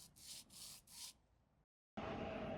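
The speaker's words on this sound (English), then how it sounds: "Now we sand both sides." Four rhythmic strokes of sandpaper rubbing a leather edge, followed by a softer scrape, a brief silence, then a steady close rasp of sanding.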